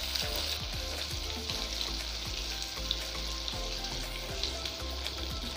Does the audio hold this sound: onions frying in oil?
yes